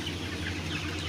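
Hens clucking on a village poultry farm, a dense, continuous chorus of low clucks that sounds close, with a steady hum of fans behind it.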